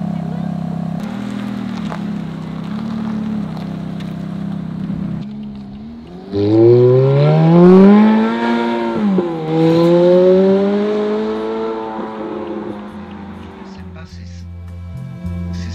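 A Ferrari F430 at full throttle, its engine climbing hard through a long, loud revving howl after idling low at first, with a shift partway and a tailing-off near the end; voices are heard faintly.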